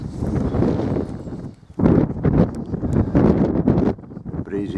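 Gusting wind on an open Welsh hillside walk near Cader Berwyn buffets the microphone in loud, uneven surges, with a brief lull before a strong blast that keeps roaring and fluctuating to the end.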